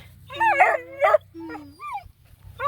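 Several coonhound puppies yelp, whimper and bark over one another in short, close bursts, with rising and falling whines and a steady low hum underneath.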